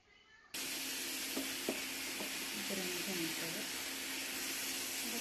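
Sliced onion and tomato sautéing in a pan for chicken curry, a steady close sizzle with a few scraping stirs of a spoon, after a brief quieter start.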